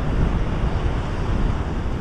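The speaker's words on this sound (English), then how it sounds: "The wind's picked up now." Steady northerly wind at a rocky sea shore, a constant loud rush blended with swell and surf, unbroken for two seconds with no talk.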